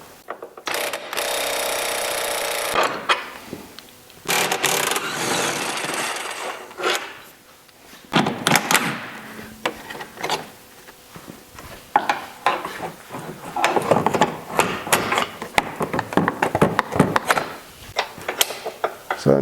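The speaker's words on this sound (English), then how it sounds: "Then I'm going to remove the bolt right here. This is for our lower control arm." A lower control arm bolt is worked loose on a Porsche Boxster's suspension, with bursts of rapid ratcheting and clicking tool noise alternating with metallic clanks and brief pauses, close and fairly loud.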